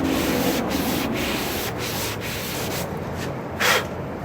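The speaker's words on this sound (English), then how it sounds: "Now again, up here in this section where I'm sanding" Sanding block rubbing back and forth across a Honda Civic door panel, a steady abrasive hiss with several rhythmic strokes, close and fairly quiet, no talk.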